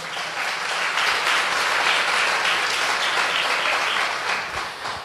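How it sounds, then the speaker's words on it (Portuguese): A church congregation claps in sustained, dense applause for Jesus, a loud, even wash of many hands that swells and holds for several seconds before easing slightly. "Dê uma salva de palmas para Jesus."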